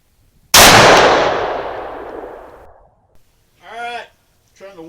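A single loud, close rifle shot from a Ruger American Gen 2 in 450 Bushmaster cracks at an outdoor range, its boom decaying over about two seconds, followed by brief speech.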